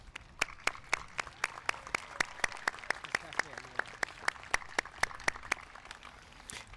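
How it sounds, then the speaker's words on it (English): Applause at a high school graduation ceremony honoring graduates' families, heard as distinct, fairly regular claps from a few nearby hands over a quieter wash of distant clapping, fairly soft overall. "I would like to once again thank your families by giving them a huge round of applause"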